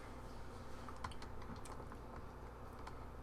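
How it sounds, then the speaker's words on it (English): Fingers typing on a computer keyboard, a quiet scatter of light key clicks over a steady hiss of background noise. "you type in a website, yahoo.com"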